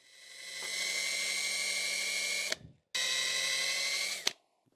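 A power drill whines steadily at high speed for a couple of seconds, stops briefly, then runs again before cutting off with a clunk, drilling the heads off stripped screws on a 2006 Yamaha YZ250 motorcycle.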